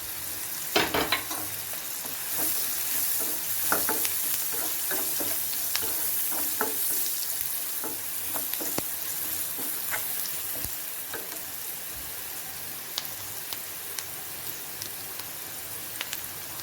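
Onions and curry leaves fry in a pan with a continuous bright sizzle and crackle, with occasional light spoon taps and stirring scrapes throughout.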